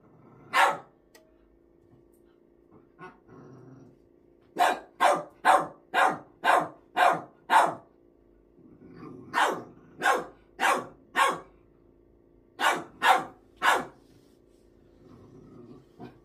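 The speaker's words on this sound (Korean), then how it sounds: "너 짖는 소리 이상하다" A dog barks repeatedly at close range, loud sharp barks in rapid runs of four to six separated by short pauses, over a faint steady background hum.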